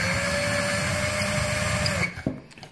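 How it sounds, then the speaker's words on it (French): A power drill bores through a workpiece with a slightly larger bit, a steady whining drone that runs loud and close for about two seconds, then cuts out into a few brief knocks. "Voilà, je change de mèche. J'en prends une légèrement plus grosse. Et là, pareil, je perce."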